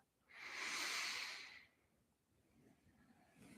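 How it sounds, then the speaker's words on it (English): A single deep, clearing breath drawn in with a soft, airy rush lasting about a second, close and quiet, followed by near silence with faint room hiss. "take a deep and clearing breath"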